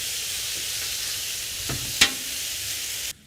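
Chicken stir-frying on a flat griddle, a steady bright sizzle with a couple of sharp scrapes and clanks from a utensil before the sound cuts off.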